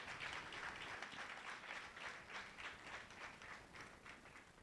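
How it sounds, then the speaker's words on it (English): An audience at a women's day symposium gives a big round of clapping, a faint, distant wash of many hands applauding steadily without pause, pulsing slightly, with no voices on top. "Can you give a big clap and thank you to these awesome people"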